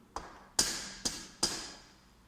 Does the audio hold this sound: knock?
yes